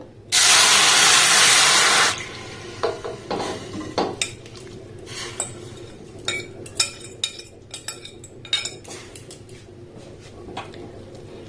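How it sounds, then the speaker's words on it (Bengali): Thin raw mango slices hit a hot frying pan with a loud, bright sizzle that lasts about two seconds, followed by scattered metallic clinks and scrapes of the slices being stirred and moved around the pan. "এবার দেখুন আমটাকে আমি এই কড়াইয়ের মধ্যে দিয়ে দেব।"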